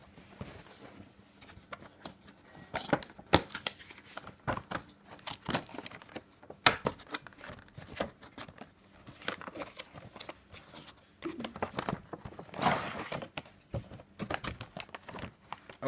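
A vinyl figure is unboxed, with cardboard and plastic packaging crinkling, tearing and tapping in irregular bursts, near and moderately loud, with short pauses between handling sounds and no talking.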